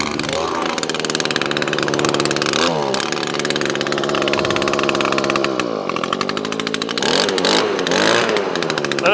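A small engine on Aspen fuel starts after winter storage and fires up at once, a loud raspy chainsaw-like buzz that revs and dips repeatedly, close and continuous.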